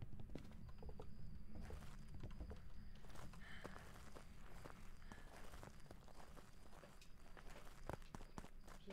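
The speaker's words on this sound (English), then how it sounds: "I can hear her footsteps." Ghost footsteps in the video game Phasmophobia, a run of soft, quiet thumping steps at an uneven pace over a low background rumble, faint and without talking.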